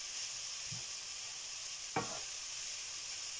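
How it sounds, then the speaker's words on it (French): Vegetables for samosa filling cooking in a pan, giving a faint steady sizzle with a small tap and then one short stirring scrape, quiet and without speech. "Je vais bien mélanger"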